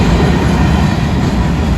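A loud, close freight train roars past on the tracks as a continuous broadband rumble, with no other voices heard.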